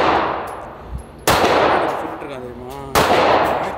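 An AK-47 rifle fires at an indoor shooting range. Two loud, close shots come about two seconds apart, and each cracks sharply and then rings off into a reverberant decay.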